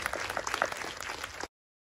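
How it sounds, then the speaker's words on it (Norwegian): Brief, fairly quiet applause from a seated audience for Inga at a knitting film festival in Fredrikstad, a soft patter of claps that ends abruptly. "Vi kan klappe for Inga."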